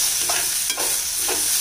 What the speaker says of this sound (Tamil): இப்போ இதை நல்லா கலந்து விட்டுடலாங்க.